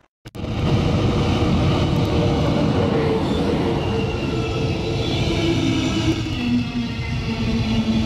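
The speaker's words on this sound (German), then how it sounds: "Jetzt nehme ich dann noch den Zug nach Treuchtlingen auf" A train passing at Pleinfeld on the line toward Treuchtlingen, a loud, close, sustained rumble with rolling wheel and rail noise that holds steady for several seconds, with faint higher whines over it.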